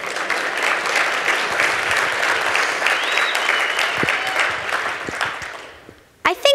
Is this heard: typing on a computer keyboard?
no